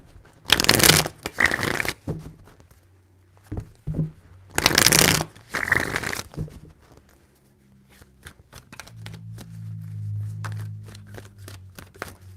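Tarot cards are shuffled in three bursts, each a loud close riffle, followed by softer quick taps and a low hum toward the end, with no voices.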